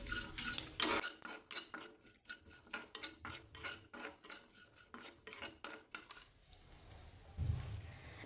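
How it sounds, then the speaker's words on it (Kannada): Garlic being fried in a pan for a brinjal and peas gravy, heard as rapid rhythmic clinking and scraping of a metal spatula against the pan, close and fairly quiet, with a faint sizzle and no talking. "ಹಾಕ್ಕೊಂಡು ಸ್ವಲ್ಪ ಫ್ರೈ ಮಾಡ್ಕೋಬೇಕು."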